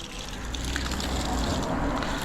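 Steady gush of water pouring from a newly built, filtered watering outlet at a house project, a continuous broadband rush running loud and close throughout with faint voices beneath.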